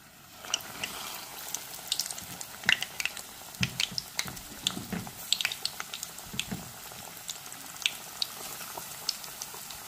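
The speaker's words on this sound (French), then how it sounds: "Pendant que mon poisson est en train de gentiment frire" Steady crackling and spitting of fish frying in hot oil, with irregular pops and sizzles throughout, fairly quiet and close.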